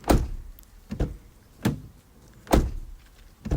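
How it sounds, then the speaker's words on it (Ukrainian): A BMW E34 sedan's door is shut repeatedly, giving four or five solid, close thunks spaced unevenly apart, each a short low-heavy slam fading quickly into quiet. "в цій машині це те, як зачиняються двері"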